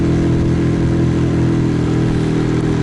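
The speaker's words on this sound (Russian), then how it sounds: "Не, мотор едет хорошо, ребят." Outboard motor on a river raft runs loud and steady at full throttle after its carburetor was cleaned, a constant droning hum with no sputtering or coughing.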